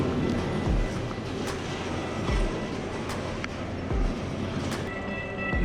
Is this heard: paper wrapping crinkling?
no